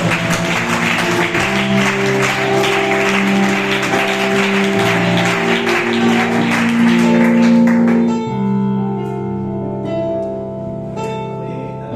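A church congregation claps for several seconds, a busy crackle of many hands mixed under loud, sustained keyboard worship music, before the clapping drops away and the music carries on alone.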